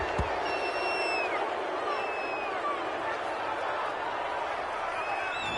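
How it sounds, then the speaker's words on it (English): A stadium crowd in a PS4 football video game roars and jeers at a penalty call, a dense, steady wall of noise holding through the whole stretch, with faint whistle-like tones drifting above it. "Well, this crowd does not like that call."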